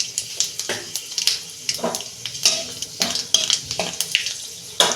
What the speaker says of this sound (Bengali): ওই তেলেতে আমি একটা তেজপাতা ফোড়নে দিচ্ছি